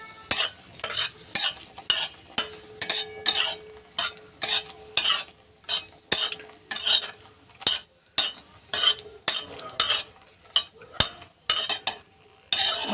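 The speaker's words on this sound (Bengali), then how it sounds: "দুটো লঙ্কা ভেজে নেব।" Two green chilies fry in a pan while a spoon stirs them in quick rhythmic strokes, each scrape close and distinct over a light, continuous sizzle.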